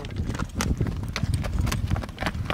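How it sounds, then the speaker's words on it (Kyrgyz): Horse hooves clip-clop steadily as the animal walks at a slow pace, close by and fairly loud, with a rough, uneven rhythm over faint background noise. "Курч ат экен, а?"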